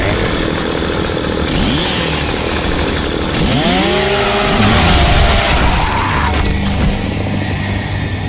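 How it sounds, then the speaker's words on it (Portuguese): Lancer rifle chainsaw bayonet revving loud and close in Gears of War (2006), a sustained grinding motor roar with rising and falling pitch sweeps, the engine noise continuous throughout without talking. "A Lancer que tem a motosserra, você chegar perto do Locush e dizimar ele, executar ele com a motosserra"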